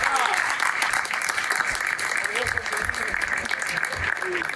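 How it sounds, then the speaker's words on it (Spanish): Audience at a film premiere screening applauds in a steady, dense wash of clapping that lasts throughout, with voices and cheers mixed in. "¡Un aplauso!"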